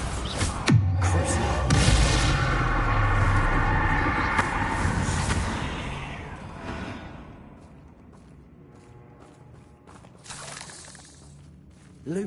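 A Bombarda explosion spell in Hogwarts Legacy bursts with a loud shattering boom and crackling debris, then rumbles and fades over several seconds, ending with a fresh crack.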